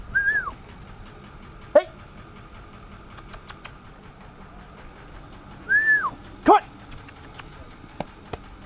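A dog gives two short high whimpers and a couple of sharp yips or barks, close by, with a man calling to it in between.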